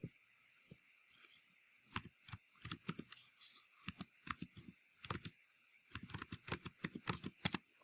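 Keys on a computer keyboard are typed in irregular bursts of soft, close clicks and taps over a faint steady background hum, with no voices.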